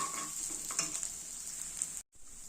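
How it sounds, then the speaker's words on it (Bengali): Chopped green chillies fry lightly in a pan with a faint, even sizzle that cuts off abruptly near the end. "একটু ভেজে নিয়ে এতে দিয়ে দেবো কাঁচা লঙ্কা কুচিগুলো, খুব হালকা করে ভেজে নেব"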